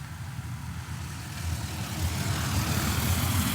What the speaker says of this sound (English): we're going to get interrupted with a vehicle in a minute